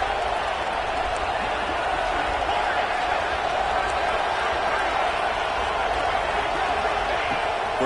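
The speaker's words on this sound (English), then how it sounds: "This crowd is trying to inspire this defense to make a big red zone stop." Stadium crowd at a football game in Kentucky, a steady dense roar of cheering and noise held at an even level throughout, building to urge the defense on near the red zone.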